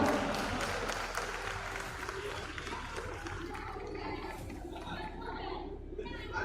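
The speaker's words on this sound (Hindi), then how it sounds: "एक और ताली बजाओ।" An audience claps through a loud round of applause at a birthday celebration for an MLA, mixed with crowd chatter and people talking, before it thins out.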